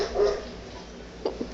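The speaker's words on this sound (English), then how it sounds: "we're playing the iPad with barking noises" Recorded dog barking noises play from an iPad indoors, a faint short burst of yips and whimpers followed by two quick small barks.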